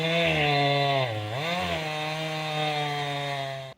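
A chainsaw cutting through a fallen log on a forest hiking trail, a steady droning engine whine at moderate distance that dips briefly in pitch under load, then holds until it cuts off at the end.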